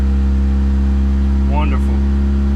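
A 2017 Lexus IS200t F-Sport's engine idling in first gear while raised on jack stands, a loud steady low drone with a brief rising whine partway through, a voice faintly present.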